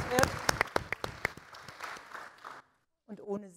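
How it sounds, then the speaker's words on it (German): Scattered clapping from a small audience at a talk event, a few sharp individual claps that thin out and fade within a couple of seconds, followed by a short silence and then a voice speaking. "Auch das ist ein Applaus wert."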